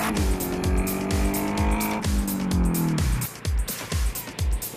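Drag racing cars launch from the start line, their engines roaring loudly with a rising-then-falling pitch, set against a steady pounding beat that carries through the whole stretch.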